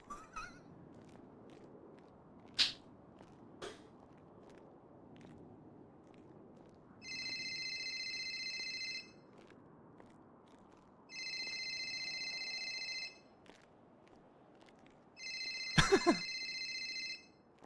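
A phone rings in GTA V NoPixel roleplay with three electronic trills spaced a few seconds apart, clear over a quiet low background. A couple of sharp clicks or thumps come before the rings, and one lands during the last ring.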